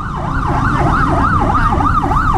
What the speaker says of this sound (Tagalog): Meron wang-wang sa paligid natin ha.